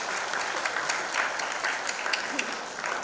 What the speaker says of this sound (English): So huge round of applause to all these films.